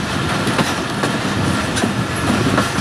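Train cars rolling along the track near the Faisalabad North cabin as it pulls in toward a station platform, with steady loud rumble and rhythmic clickety-clack wheel beats throughout, no voices.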